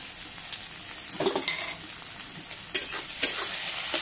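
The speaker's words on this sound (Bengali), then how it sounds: "এই যে পেঁয়াজ রসুন এগুলো সমস্ত যতক্ষণ না কালার চেঞ্জ হচ্ছে ভেজে নিতে হবে" Grated ginger, onion and garlic frying together in a pan, a close, bright sizzle broken by several spatula stirs and two crisp scrapes near the end, with no talking.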